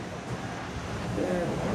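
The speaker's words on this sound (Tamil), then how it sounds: "பாருங்கள் காற்றடிக்க சத்தத்தை பாருங்கள்." Strong gusting wind buffets a shed roofed with tin sheets, a steady broadband roar with low rumbling gusts and faint rattling, swelling slightly toward the end.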